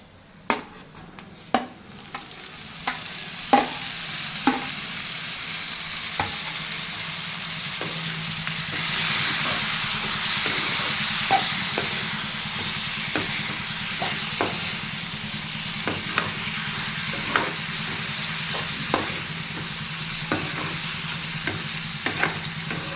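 Tomatoes with garlic, onion and curry leaves frying in a pan for egg curry, a steady sizzle broken by regular sharp scrapes and clacks of a spoon stirring, the hiss swelling partway through, no talk.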